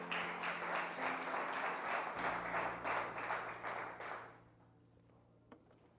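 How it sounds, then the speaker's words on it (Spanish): A church congregation claps together in a dense, steady burst of applause that lasts about four seconds, then quickly fades to near silence. "¿Podemos darle una ofrenda de palmas, Señor, con todo el corazón?"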